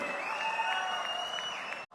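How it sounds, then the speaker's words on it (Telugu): Applause from an audience at a political rally, with steady clapping that stays dense and even before cutting off abruptly at the end. "గట్టిగా చప్పట్లు కొట్టి మనస్ఫూర్తిగా అభినందించండి ఆశీర్వదించండి"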